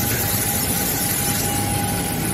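Boeing airliner engine running at the airport during boarding, heard as a steady, loud broadband roar with a low rumble and a faint sustained tone, continuous throughout with no talk.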